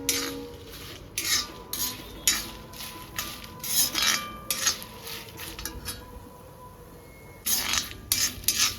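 Curry leaves and dried chillies fry in a pan, with a soft sizzle beneath repeated scraping and stirring strokes from a metal spoon, close and fairly quiet, with irregular bursts and pauses.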